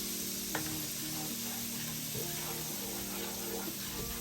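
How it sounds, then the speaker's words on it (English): Steady, close sizzle of food sautéing in a pan with a splash of chicken broth, a constant hiss with a faint low hum underneath and occasional soft clicks. "And just keep kind of sauteing that around."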